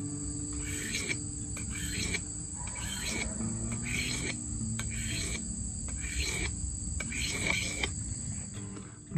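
Steel file stroked by hand along a broadhead arrow tip, giving regular rasping scrapes about once a second, close and moderately loud, over a steady background of outdoor insect and bird sounds.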